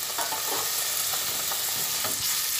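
Fish curry sauce thinned with a cup of water is stirred in a pan for Til Katla, with a steady simmering sizzle and repeated soft scraping strokes of the spoon close by, no voices.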